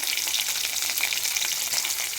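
Fish frying in a pan, a close, continuous loud sizzle with dense crackling and spitting oil, steady throughout with no talking.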